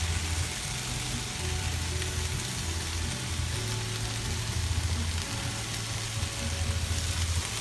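Cheese sizzles steadily in a hot frying pan for a Philly cheesesteak, a continuous close crackling fry with a low hum underneath and no talk.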